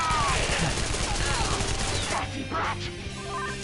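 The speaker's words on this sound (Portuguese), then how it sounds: "Tá, esse tiro de arma aí não é muito pesado" Gunfire in the video game Persona 5 Royal, a dense rapid burst of shots and crashing impacts that cuts off abruptly, followed by quieter game effects.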